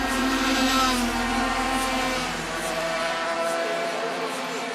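50cc mopeds roaring together in an endurance race, a dense continuous buzz of small two-stroke engines with layered, wavering pitches, loud and near throughout without pause.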